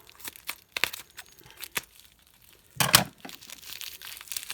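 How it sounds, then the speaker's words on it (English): Bubble wrap around a Lego figure is cut and pulled away, a series of close, irregular crinkles and snips with one louder rustling burst midway. "Gotta cut this bubble wrap."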